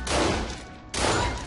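Loud gunshot impacts in the PC game The Ship, two sharp, dense blasts about a second apart, the second cutting in abruptly after a brief dip, with no talk over them.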